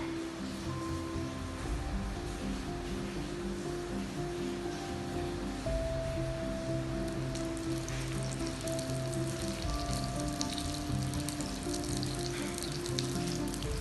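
Butter heats and melts in a pan, giving a soft, steady sizzle and faint crackle that stays quiet and even throughout, with no voices.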